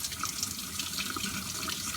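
Hot water pours steadily from a tap over frozen tomatoes in a kitchen sink, a continuous close splashing rush with slight fluttering, no talking.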